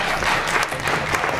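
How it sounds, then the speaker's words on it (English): A crowd at an annual town meeting applauds, steady dense clapping filling the room throughout a short burst, loud and fairly close. "Okay, hold your applause."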